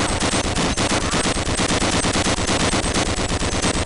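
Continuous loud automatic gunfire at a weapons range in the game Gunman Chronicles, a dense, fast, unbroken stream of shots with no talk.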